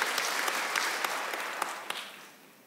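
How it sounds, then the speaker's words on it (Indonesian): A church congregation at an online service claps in unison, sharp individual claps standing out from a dense, fairly close wash of applause that gradually tapers off. "Tepuk tangan bagi Allah kita, saudaraku."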